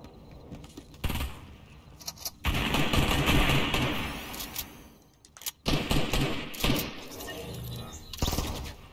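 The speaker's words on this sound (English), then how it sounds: "I need to get him down with my shotgun." Shotgun blasts and other gunfire in Fortnite, a video game, set inside a building: loud, dense bursts of shots across the stretch, with short gaps between volleys.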